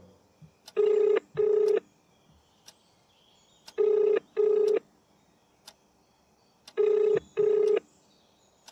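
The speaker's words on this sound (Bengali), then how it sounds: "তানিয়া ছন্দার ফোনটা কেটে বিশ্বরূপকে ফোন করে।" Three pairs of electronic phone dialing tones at regular intervals, each pair two long beeps, with soft clicks between them and no talking.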